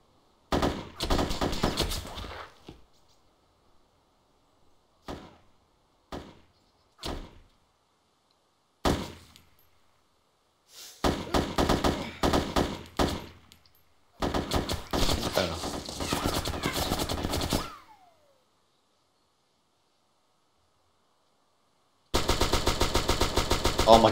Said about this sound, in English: Oh my god, the recoil on this gun!